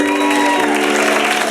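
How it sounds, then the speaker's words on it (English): A theater audience at a New Year's Eve show bursts into loud, dense applause with a few shouts, the clapping filling the short burst. "a big round of applause to Luke Zwanziger"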